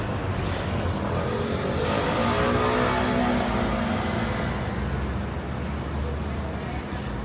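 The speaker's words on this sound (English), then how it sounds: "And there's loud motorbikes." Loud motorbikes roar past on a busy city street in Málaga or Marbella, a dense continuous engine rumble with rising revs that swells and fades amid traffic noise.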